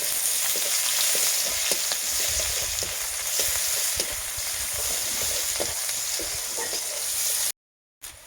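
Chilies and bay leaf frying in oil in a pan for a fish-head mung dal, a loud continuous sizzle with repeated spatula stirring scrapes, no talking, cutting out abruptly near the end.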